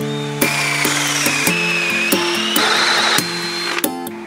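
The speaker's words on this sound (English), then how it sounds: "I'm removing the majority of the waste with the drill." A power drill bores out waste wood while shaping a bowl from natural timber, whining in bursts with sharp clicks as it starts and stops, near and loud.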